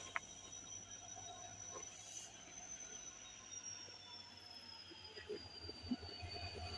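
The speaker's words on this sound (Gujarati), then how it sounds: "ફેમિલી આપણી ટ્રેન આવી ગઈ છે, થોડી વારમાં આવે છે" A train pulling into a railway station on the way to Bharuch, with steady rumbling rail noise, a long high whistle-like squeal running through, and scattered clanks over a continuous loud background.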